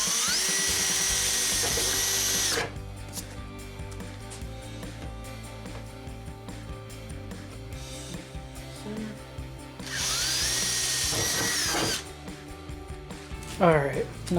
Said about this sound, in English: Now we're going to use a 3/16 bit just to open up the holes more so then the screws can fit into it.